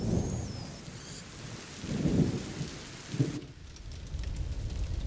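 Rain and thunder in the video game A Plague Tale: Innocence, with steady rainfall hissing throughout and low thunder rumbles rolling in and out, no voices over it.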